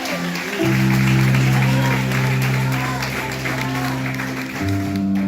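Sustained applause from a church congregation fills the whole stretch, steady clapping with a held musical tone droning underneath.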